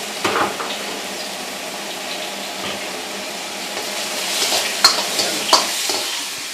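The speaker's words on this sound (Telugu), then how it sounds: "ఇవన్నీ కూడా వితిన్ సెకండ్స్లో ఫ్రై అయిపోతున్నాయి" Ingredients fry in a pan at a veg cafe with a steady, moderately loud sizzle, occasional stirring scrapes and a few brief clinks, no voices.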